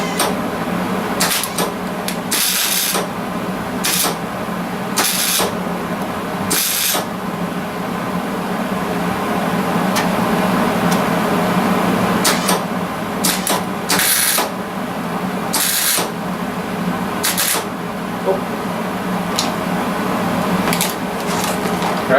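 Welding on a section of a Mercedes G-wagen body under restoration gives off a steady hiss and crackle, broken by short bursts of bright sizzling arcs, loud and close, with no talk.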